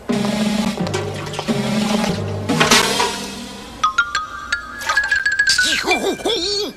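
A cartoon ice bath for a sulking king, with a sloshing, flushing rush of water and then bright clinks of ice and twinkling, wobbling tones, loud and busy throughout.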